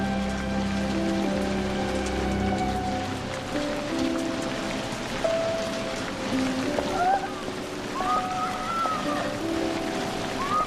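Steady rain falls on a surface in a continuous, fairly loud wash of patter, with faint tonal sounds drifting through in the background.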